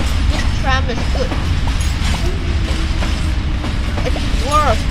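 A tram rumbles along in the Roblox game Mad City with a steady mechanical rolling noise. Squeaky whistling effects sound in places, and a player talks over it.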